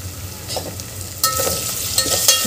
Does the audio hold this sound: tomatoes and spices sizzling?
yes